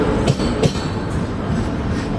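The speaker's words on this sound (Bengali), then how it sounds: "ট্রেনটা চলে এসেছে।" A train pulling into a station, a steady rumbling roll with a couple of brief clanks, close and moderately loud.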